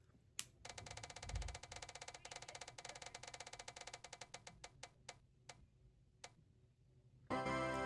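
A spinning prize-style reading-choice wheel ticks rapidly at first, then slows into sparser clicks before stopping, faint and close, followed by a brief burst of rustling noise.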